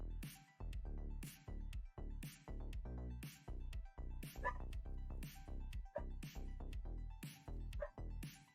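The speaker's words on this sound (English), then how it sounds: "Don't know what she's barking at." A female dog barks repeatedly outdoors nearby, a rapid series of around a dozen loud, evenly spaced barks with no voices.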